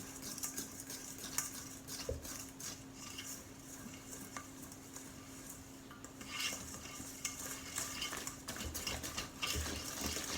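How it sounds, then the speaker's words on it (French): Flour being mixed into financier batter in a bowl: soft continuous stirring and scraping with occasional utensil taps, quiet and close over a low hum, no speech. "On ajoute 80 g de farine et on mélange de nouveau."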